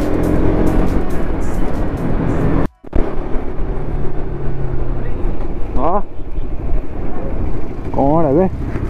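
Bajaj Pulsar RS200 and NS200 motorcycles ride hard at full throttle, a loud steady engine drone with wind roar filling the clip, cut by a brief dropout, with voices talking over it.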